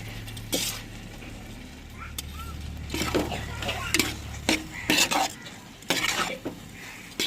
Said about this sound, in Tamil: இதோட சாப்பாடையும் சேர்த்து நம்ம விரவி எடுத்துக்கிறோங்க